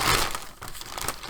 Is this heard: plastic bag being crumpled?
yes